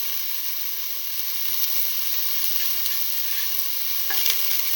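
Ginger sizzling steadily in a hot frying pan as it is stirred, a loud continuous frying hiss with faint scraping clicks, no voices.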